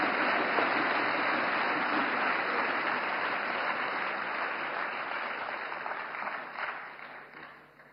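A hall audience breaks into applause, a dense, even wash of many hands clapping at once, steady and fairly loud before thinning out and fading toward the end, with no talk over it.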